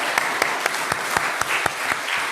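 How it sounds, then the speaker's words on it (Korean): Standing church congregation at a Korean Sunday service in Bloomington applauding to welcome a visitor, a dense wash of clapping with a few sharp louder claps standing out, steady and close throughout. "잠깐만 다 일어나 주시면 박수로 환영하겠습니다"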